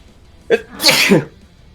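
A single sneeze bursts out close by at a tabletop game session, a short sharp intake followed by a loud explosive release, with no talk around it.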